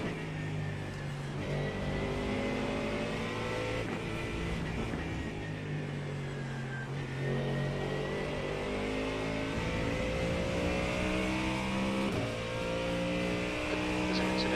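A Ford Mustang GT3 races around Sebring in the iRacing sim, its engine whining loudly through gear changes as the revs climb and drop, with a steady broadband roar throughout.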